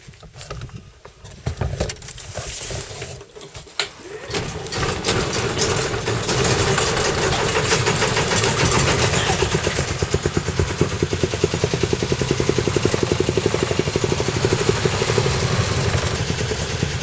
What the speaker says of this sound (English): I just settle the engine down till it feels comfortable.